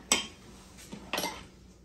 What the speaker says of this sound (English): I can't eat a whole steak, so I could cut one up